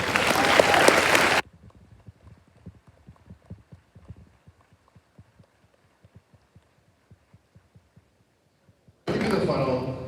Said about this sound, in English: So how about a round of applause for everyone here today?